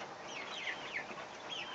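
Several hens cluck and murmur together in a steady, moderately close chorus, with soft overlapping calls rising and falling.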